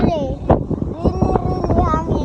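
Strong wind buffeting the microphone outdoors, a loud continuous roar with gusty swells, while a voice speaks over it.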